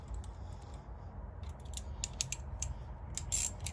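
A ratchet clicks in short quick bursts while snugging bolts on a Duramax diesel intake horn, close and fairly quiet, with no one talking.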